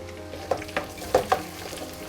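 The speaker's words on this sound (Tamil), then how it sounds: "நல்லா வெங்காயம் கொஞ்சம் நல்லா இந்த எண்ணெயிலே வதங்கட்டும்" Chopped onion frying in oil with garlic for garlic pepper rice, a low steady sizzle broken by a few quick stirring scrapes and taps, close by with no speech.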